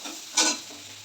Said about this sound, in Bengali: এবার দেখো একটু পেঁয়াজ কুচিয়ে রেখেছি দিয়ে দিলাম।